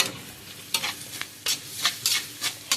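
Coriander powder and garam masala frying in oil for a mushroom gravy, with a soft sizzle under sharp, irregular spoon scrapes against the pan, close and moderately loud.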